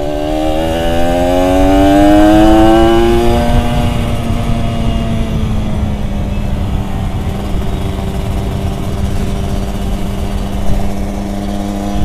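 A Kawasaki Ninja ZX150RR motorcycle engine revs up loudly and close, pitch climbing then falling back to a steady, high idle drone that continues to the end.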